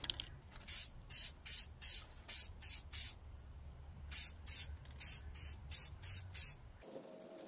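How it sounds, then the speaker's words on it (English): Black Plasti Dip rubber coating sprayed from an aerosol can onto a 2001 BMW E46 M3 headlight lens: a steady run of about fourteen short hissing bursts in two groups, close and clear, with no talking. "I'm going to do the second coat for the Plasti dip."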